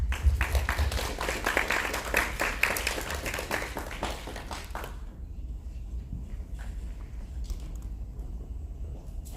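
An audience at an international broadcasting forum in Korea claps for a speaker, a dense burst of applause that fades out after about five seconds, leaving faint room noise and a few scattered claps.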